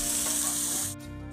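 A small pot of angu, Brazilian cornmeal porridge, sizzles and spatters steadily as it cooks, a dense continuous bubbling crackle that drops a little quieter near the end.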